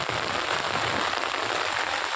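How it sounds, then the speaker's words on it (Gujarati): Heavy rain pours steadily, a dense, constant hiss of drops pounding a surface nearby, with no pauses. "વરસાદ ધૂમધામ વરસાદ ધડાકા બોલાઈ રહ્યો છે"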